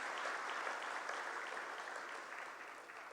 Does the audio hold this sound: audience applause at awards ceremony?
yes